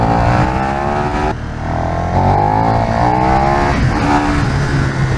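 A motorcycle engine in sport mode accelerating hard, loud and close, its rising whine climbing through the gears with a brief dip at a shift.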